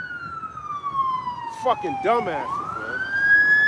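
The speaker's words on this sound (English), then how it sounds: "Got 2 ambulance trucks coming, all for a fender bender." Two ambulances roll along a road past a minor fender bender, their sirens wailing loud and close and sweeping down and back up in pitch, while a man curses over them.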